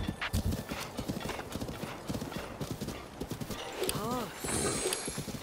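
A horse gallops with rapid, rhythmic hoofbeats and then lets out a clear neigh in Zelda: Breath of the Wild, with a voice talking over the game sounds.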